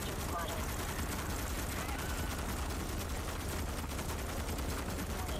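Rapid, overlapping gunfire from the Starship Troopers: Extermination video game rolls on as a loud, unbroken barrage for the whole stretch.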